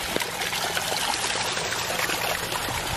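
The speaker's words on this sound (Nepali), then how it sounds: "अहिलेसम्म चाहिँ अझै पानी बगिरह्यो" Stream water runs steadily over rocks near a hidden temple, a continuous close trickling and gurgling wash with no voices.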